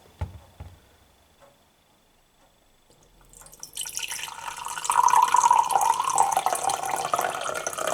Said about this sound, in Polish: I teraz powolutku wlewamy wodę.